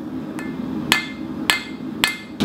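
Hammer strikes on artillery shell metal being flattened for a knife blank, four sharp metallic blows at a steady, unhurried pace, close and loud over a faint background hum.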